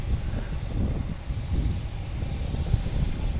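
A United airliner flies by on approach to land at Boston Logan Airport, a steady low engine rumble at moderate distance with no voices over it.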